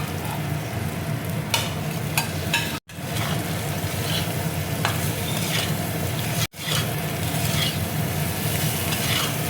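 Taro pieces fry in a pan with a masala of Kashmiri chili powder, giving a continuous loud sizzle while a spoon stirs and scrapes through it, with no talking.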